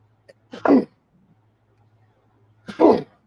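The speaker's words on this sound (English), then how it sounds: "I was working on that sneeze for a couple minutes there" Two sharp sneezes about two seconds apart, close and loud, with quiet in between and no talking.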